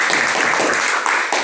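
Classroom applause for a student group at a school lesson, a short burst of dense clapping from many hands, fairly close and loud, with a brief dip near the end.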